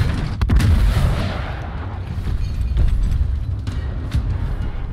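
Rocket explosions in Gears Tactics: heavy booming blasts and rumbling detonations follow one another in quick succession over a loud, continuous battle roar, with sharp impacts scattered throughout.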